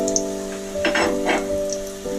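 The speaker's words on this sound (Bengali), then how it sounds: "দেখুন এরকম করে লাল লাল করে ভেজে নেবেন।" Raw banana koftas fry in hot oil, giving a continuous crackling sizzle with bursts of spattering over a steady tonal hum.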